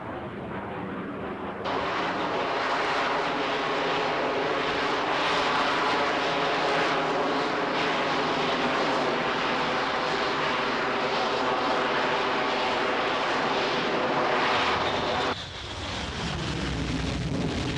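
Harrier vertical takeoff jet aircraft flying, a loud sustained roar that swells in after a quieter start, holds steady, then shifts pitch near the end as it passes.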